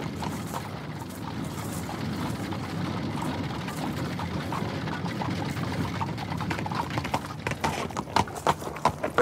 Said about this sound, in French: Regarde derrière. Tu ne vois rien? Si, un cheval.